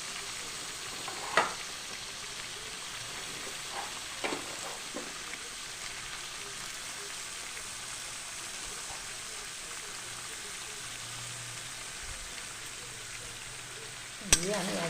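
Chicken, onions, tomato and capsicum stir-fry in a pan, a soft continuous sizzle running throughout with occasional spatula scrapes and knocks, the loudest clack at the very end.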